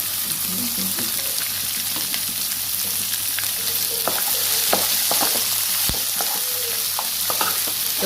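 Chopped ginger and garlic fry on high heat in a pan, a loud steady sizzle broken by sharp spatters and stirring clicks, close and continuous with no talking.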